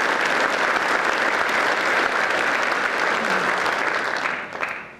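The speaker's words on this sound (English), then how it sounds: "please join me in a round of applause for our families." An audience at a military academy change-of-command ceremony applauds in a full, dense round of clapping that holds steady for about four seconds and then tapers off quickly.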